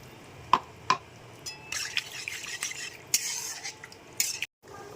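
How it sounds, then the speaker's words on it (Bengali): Rinse water from a mixer jar goes into a simmering mustard bhetki fish curry in the pan, with a couple of utensil clinks and then a few seconds of hissing sizzle before another clank. "এইবারে মিক্সির বাটি ধোয়া জলটা দিয়ে দেবো"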